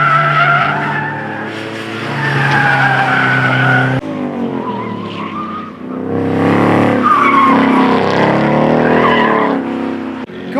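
Race cars at a time attack championship event scream past on track, loud high-revving engines rising and falling with squealing tires as they pass close by, no talk.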